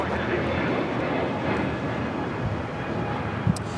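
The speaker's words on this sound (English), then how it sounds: "2010 taking off to West Palm Beach on the A321neo LR." A JetBlue Airbus A321neo LR takes off at LAX, a steady, broad roar held at a distance, with a brief click near the end.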